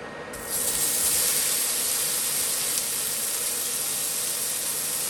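Chopped bacon sizzling in a skillet for a sheepherder's breakfast: a bright, steady hiss that starts abruptly and holds at an even level throughout, with no speech.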